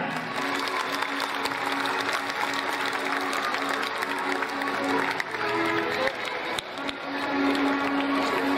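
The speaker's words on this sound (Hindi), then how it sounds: "एक बार जोरदार तालियां" Audience clapping at a school annual function, a dense continuous wash of applause mixed with a steady mechanical hum, with no pause across the whole stretch.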